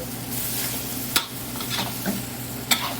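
Pork and ginger stir-frying with oyster sauce in a pan, a steady close sizzle broken by a few sharp clacks of the spatula scraping and tossing.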